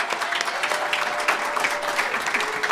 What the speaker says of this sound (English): Can we give a little round of healing vibe applause for Marianne Moorman?